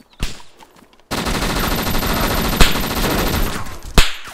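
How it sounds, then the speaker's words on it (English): Rapid automatic gunfire in a video game: a short, quieter stretch, then a dense, sustained machine-gun burst, loud and close, punctuated by a couple of sharper, louder shots. "I killed the other one that was shooting at you."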